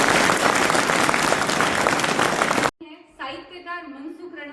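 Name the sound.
applause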